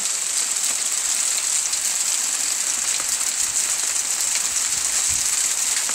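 Hail pours down steadily outdoors in a dense, continuous hiss and patter that stays loud and unbroken throughout, with no talking.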